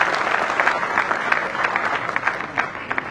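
A crowd at an honours ceremony in Jaipur claps to welcome an award recipient and her school principal, with steady applause and individual claps standing out as it gradually thins toward the end.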